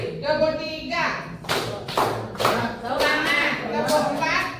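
Group clapping at a school teacher workshop, delivered in short synchronized bursts separated by pauses, with a voice speaking between the claps.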